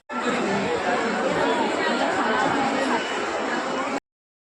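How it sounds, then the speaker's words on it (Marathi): Dense crowd chatter fills a busy shopping mall, a steady loud hubbub of many overlapping voices close around throughout, with no single voice standing out. "खूप गर्दी आहे मॉलमध्ये."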